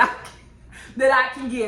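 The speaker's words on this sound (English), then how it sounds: "excuse my dogs. Y'all know they're loud." Dogs barking indoors at home, a couple of short loud barks mixed in with someone talking over them.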